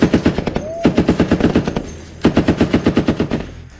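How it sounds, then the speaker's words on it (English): Weapons test-fired aboard a Navy destroyer: two loud, close bursts of rapid automatic gunfire, each a fast, even string of sharp shots, separated by a short pause. "Anything in our job that we shoot, we always have to do pre-fires."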